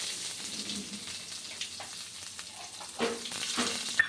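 Mustard seeds, cumin and onions frying in oil for a radish chutney tempering, a steady close sizzle with light crackles and occasional stirring scrapes.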